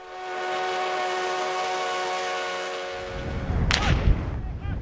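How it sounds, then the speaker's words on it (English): A historic 1880 train rolls steadily through South Dakota's Black Hills with a sustained tonal hum, then a brighter burst of clattering and rumbling noise joins near the end, fairly loud and close. "experiencing the rhythm of the rails, rolling through South Dakota's Black Hills on the 1880 train"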